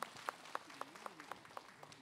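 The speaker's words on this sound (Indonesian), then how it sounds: "Tepuk tangan dulu yuk" A studio audience at an Islamic religious talk show claps faintly in a slow, even unison rhythm, about four claps per second, with soft voices murmuring underneath.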